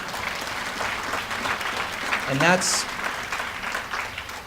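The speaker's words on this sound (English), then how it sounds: "You can clap. It's okay." A conference audience breaks into applause, a sustained rustle of many hands that rises briefly and then thins. A short whistle-like rising tone cuts through the middle, and a voice begins speaking over the clapping.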